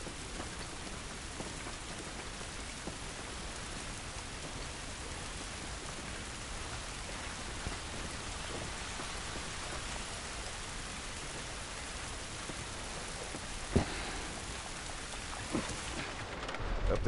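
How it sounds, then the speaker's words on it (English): Steady rain from The Last of Us video game pours in a continuous hiss for a long stretch, with a few isolated sharper knocks and a swelling rumble near the end. "This rain ain't gonna do us any good."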